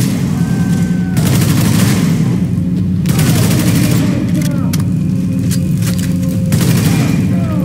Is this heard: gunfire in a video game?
yes